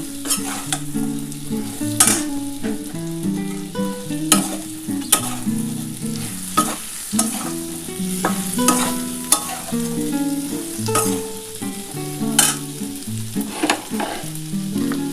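Ginger and slit green chilies fry in a pan with turmeric, salt, sugar and Kashmiri chili powder, a constant close sizzle broken by repeated sharp clacks of a spatula stirring and scraping against the pan.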